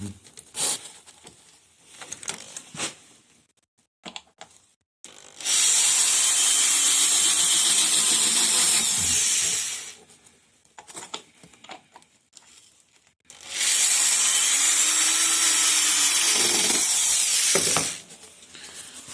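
Self-tapping screws are driven into a wooden beehive box with a power screwdriver, giving two loud sustained whirring bursts of about four seconds each, separated by quieter handling clicks and rustles.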